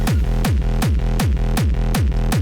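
A loud, distorted hard techno kick with a pumping reverse bass tail repeats at a fast, driving tempo, about six hits with no voices.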